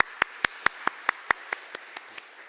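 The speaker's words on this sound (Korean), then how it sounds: "우리 찬양을 받으신 하나님께 영광의 박수를 한번 드리겠습니다." A church congregation gives a short round of applause during a Wednesday prayer service, about ten sharp claps in steady rhythm that fade toward the end, with no talk over them.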